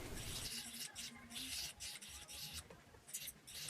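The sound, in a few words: sanding disc smoothing metal prongs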